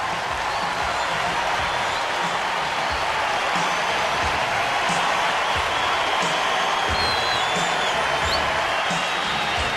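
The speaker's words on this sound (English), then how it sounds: "He deserves a pat on the back and an ovation from the crowd." A baseball crowd at a Giants–Dodgers game gives pitcher Hiroki Kuroda a sustained ovation: a dense, even wash of applause and cheering with scattered whoops that holds steady and loud from start to finish.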